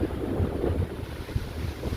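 Strong wind gusts roar and buffet the microphone, with a low rushing, choppy sound like water or waves beneath it.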